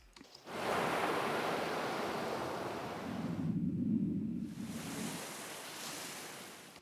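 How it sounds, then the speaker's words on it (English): Ocean surf rolls in a broad steady wash, then dissolves into a muffled, low rumbling underwater ambience before the open-water hiss returns, all continuous with no voices. "listen to the transition away from the ocean into the underwater scene"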